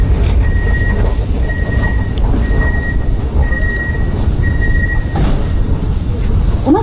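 A modern Warsaw metro subway train rumbles steadily and loudly, with a repeating high electronic beep chiming five times over the roar, then fading out.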